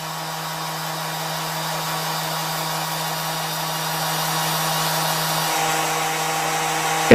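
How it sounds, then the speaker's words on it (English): Electric sander running alone during a sound test, a continuous high, breathy motor whine with a steady hum beneath, holding constant and growing slightly louder until a sharp click at the end. "Once the tester sets up a microphone, the sander is ready for a solo."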